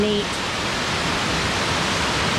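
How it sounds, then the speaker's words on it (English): A waterfall at Virgin Falls State Natural Area in Tennessee pours down and flows back into a cave, making a steady, broad, hissing rush that stays loud and unbroken throughout. "The waterfall is coming down,"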